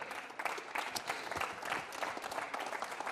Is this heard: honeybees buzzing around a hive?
no